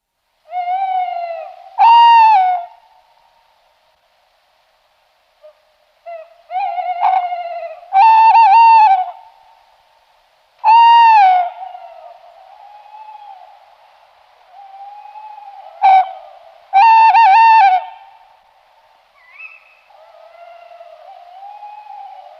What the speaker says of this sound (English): We've got two pairs of tawny owls at Garston, one at the northeast corner of the wood and one in the southwest corner.